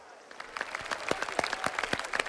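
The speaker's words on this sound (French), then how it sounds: "Maintenant, célébrons tous ensemble et, s'il vous plaît, acclamons notre fier vainqueur." Crowd applauding a race winner at a celebration in the video game Mafia The Old Country, a steady patter of many clapping hands with faint crowd murmur, fairly close.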